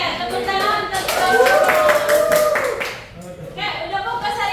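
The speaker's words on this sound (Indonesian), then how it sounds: "Oke, tepuk tangan, tepuk." Classroom of pupils clapping hands together in a clapping game, a short burst of claps mixed with children's voices and a teacher talking over them, fading briefly before resuming.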